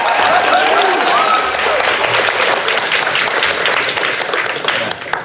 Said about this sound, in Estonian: Teeme toetava aplausi.